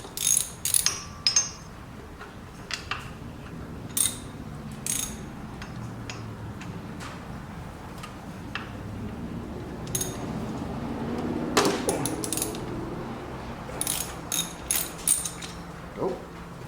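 Grease-covered nuts loosened on a Chevy Colorado engine, heard as scattered metallic clicks and ratcheting taps against a low background hum, close by with no talk.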